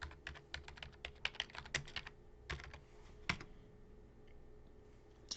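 Rapid bursts of keystrokes on a computer keyboard as a network command is entered, clicking in quick irregular clusters close to the microphone, then tapering to a few isolated key presses with no voices.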